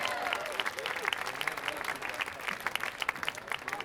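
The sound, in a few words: audience applause for a big band musician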